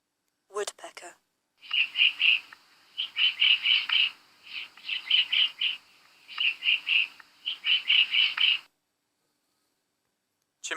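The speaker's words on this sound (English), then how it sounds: "woodpecker," A woodpecker calls in a series of sharp, high, rapid chirping bursts repeated in clusters, loud and close, with a brief spoken word at the start and end.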